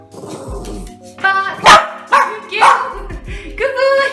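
A dog barks loudly and repeatedly up close in a home kitchen, sharp yips mixed with a few whimpers, with a person talking in between.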